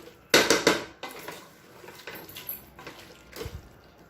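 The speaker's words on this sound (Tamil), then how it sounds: "இப்போ வெங்காய பேஸ்ட்டை சேர்த்து நல்லா வதக்கிக்கலாம்" Mutton and onion paste are sautéed in a pan with sharp metallic clanks and scrapes of a spoon against the pan, a burst of strikes early and then quieter scattered knocks.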